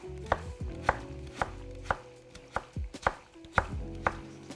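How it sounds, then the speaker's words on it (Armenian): A knife chops potatoes into thin strips on a cutting board, about ten crisp, evenly spaced thuds close by in a steady rhythm, with no talking. "Ահա, լավ բարակ շերտերի ենք կտրատում կարտոֆիլը եւ շատ այսպես բարակ փորձում ենք այն վերածել ձողիկների։"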